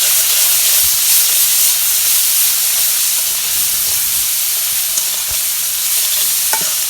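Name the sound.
crushed garlic sizzling in hot oil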